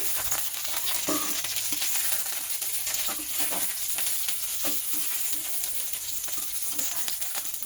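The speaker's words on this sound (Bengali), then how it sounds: "দেখো এখন ভেজে নিচ্ছি ফুলকপিগুলো, লাল লাল করে ফুলকপি।" Cauliflower pieces frying in hot oil in a pan, a steady close crackling sizzle with scattered pops and occasional stirring scrapes running continuously throughout.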